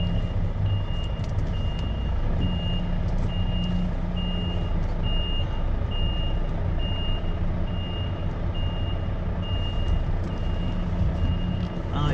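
A truck's reversing alarm beeps in a steady repeating rhythm over a rumbling engine idle, with no talking.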